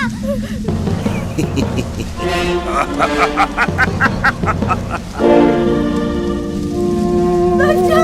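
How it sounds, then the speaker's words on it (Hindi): Heavy rain pouring and drumming on surfaces during a thunderstorm, loud and continuous, with a low rumble of thunder and a voice speaking over it, from a devotional film. "ये तूफान शांत हो जाएगा।"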